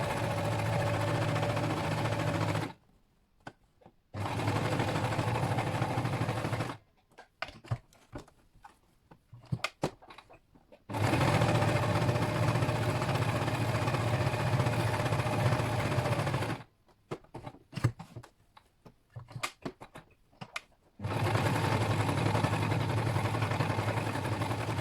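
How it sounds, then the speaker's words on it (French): A sewing machine stitches around a triple-layer fabric mask, running in three long steady whirring bursts separated by short pauses, loud and close. "Donc on va pouvoir coudre, on pense bien à faire un petit point avant, un petit point arrière au départ pour bien arrêter le fil et on coud tout autour."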